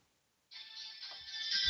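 Phone ringtone starting suddenly after a near-silent moment, a bright electronic tone that keeps ringing and swells louder, with a low thump at the very end.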